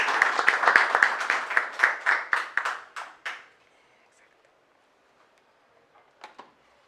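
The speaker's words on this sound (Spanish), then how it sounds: "Recibimos también entonces a la doctora Paola Polo con un fuerte aplauso." Applause from a conference audience welcoming a speaker, a dense run of claps that thins into a few separate slaps and stops after about three seconds, followed by near silence and a couple of faint knocks.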